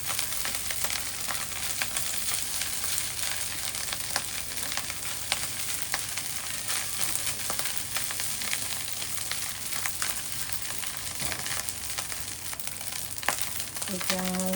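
Rice fried with anchovies, garlic and egg sizzles steadily in a pan, a constant close crackle with light stirring scrapes throughout and a brief clatter near the end.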